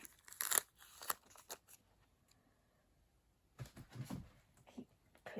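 Scissors snip through paper while a small recycled shaker gift tag is trimmed, a few sharp crisp cuts near the start and a rustling flurry of snips later, close and fairly quiet with a lull between.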